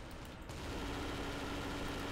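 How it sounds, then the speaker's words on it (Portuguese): Rapid gunfire in a first-person shooter, a steady stream of automatic shots fired at a wall, dense and sustained at moderate loudness after a brief quieter start. "Tá atirando na parede."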